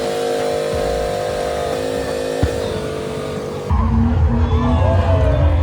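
A Mini Cooper swings back and forth near a wall during a smoky burnout, its engine droning loudly as tires squeal, the roar shifting heavier and lower partway through.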